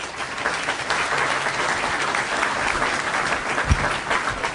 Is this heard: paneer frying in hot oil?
no